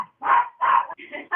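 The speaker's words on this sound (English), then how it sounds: "Dog is barking in the background." A dog barks several times in the background during an online board meeting, bursts spaced out with brief gaps, fairly loud against the room.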